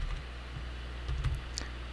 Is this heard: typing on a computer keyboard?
yes